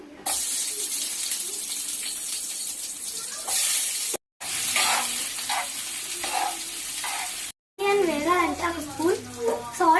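Onions drop into two spoons of heated oil while cooking chicken curry, giving a bright, hissing sizzle in several bursts with brief silent breaks, and a voice speaking near the end.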